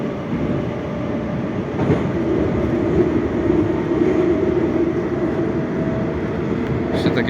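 Moscow metro train, type 81-740.1, running between stations on the line toward Arbatskaya, a loud continuous rumble and roar from inside the car with a faint rhythmic rattle and no pauses.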